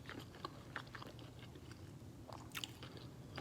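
Close, quiet chewing of homemade shrimp lo mein, with soft irregular bites and crunches spaced across a few seconds, alone without talk.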